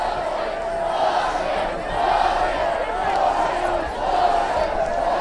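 Steady crowd roar from Bedford fans at a high school football game against Manchester Central, rising and falling as they react to a shove on the return man.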